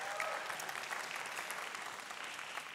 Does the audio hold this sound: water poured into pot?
no